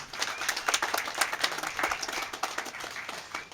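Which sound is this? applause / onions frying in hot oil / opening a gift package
applause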